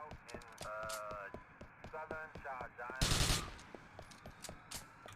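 Rapid gunfire in the video game GTA IV, with repeated sharp shots in quick bursts and a loud blast near the middle, under a voice speaking throughout.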